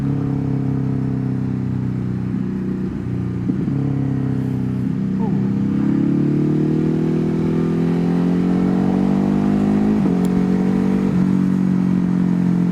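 A Ducati HyperMotard and a KTM motorcycle riding together, engines droning steadily with rising and falling revs and gear changes, loud and close, with wind rush and faint voices over the top.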